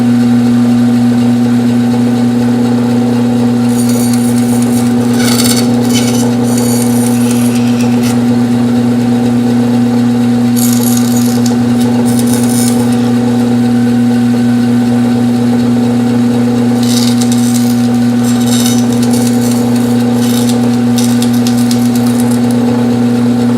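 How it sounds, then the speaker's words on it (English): A bandsaw cuts slots for the spar and tabs in wood for a hand-built wooden surfboard, its steady motor hum running throughout with several brief bursts of brighter rasping cut noise, loud and close, no talking. "as you can see, I've used my bandsaw"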